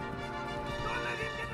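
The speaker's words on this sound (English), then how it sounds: "Do you not look at my galloping horse?" A galloping horse in the Assassin's Creed video game, its hoofbeats and snorts blended into a dense, steady wash of game music and ambience, loud and continuous.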